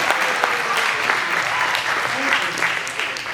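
A live audience at a stand-up comedy show claps steadily, a thick wash of many hands at fairly close range, with voices mixed in beneath the applause.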